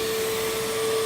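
A Bissell PowerForce vacuum cleaner with a worn-down brush roll runs steadily and loudly, a constant motor drone with a sustained whine and no audible beater agitation, alone with no voices.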